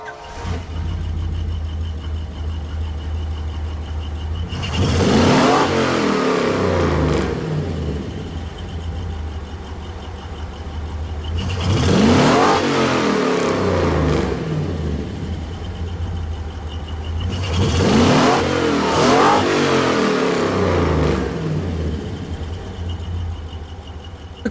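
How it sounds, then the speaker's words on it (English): A Chevrolet Corvette engine in Gran Turismo revs hard three times, each a loud rising surge that falls back to a steady idle between pulls. "Let's have a listen to that car now because it's got quite a nice sounding engine."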